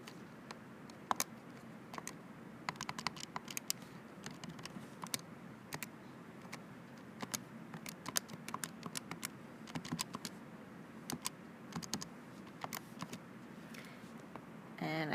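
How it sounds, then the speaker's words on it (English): Rapid tapping of keys as numbers are typed into a calculator, with steady irregular clicks of varying loudness running the whole time over a faint background hum, close up and without talk. "I make sure I use parentheses when I type it in my calculator."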